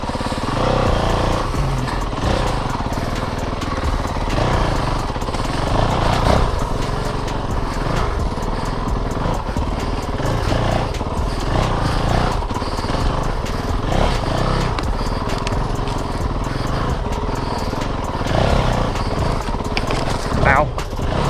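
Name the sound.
Honda CRF450L motorcycle engine riding on a trail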